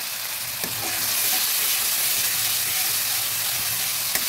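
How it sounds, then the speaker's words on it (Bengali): Steady sizzling of ginger paste, cumin powder, coriander powder and dried chilli frying in a pan, a constant broad hiss with a few faint clinks, no voices. "জিরে পাউডার, ধনে পাউডার আর শুকনো লঙ্কাটা একটু ভাজা হয়ে আসছে"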